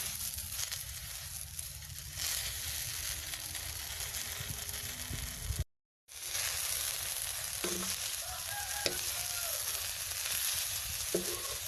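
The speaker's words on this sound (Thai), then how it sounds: "หลังจากนั้นนะคะก็นำมาคั่วค่ะอังไฟนะคะ คั่วแบบนี้ไปเรื่อยๆนะคะ ใช้ไฟอ่อนนะคะ" Mulberry leaves are dry-roasted in a pan over very low heat, producing a continuous dry rustling hiss with a few scraping stirs and a brief cut of silence midway, with no talking.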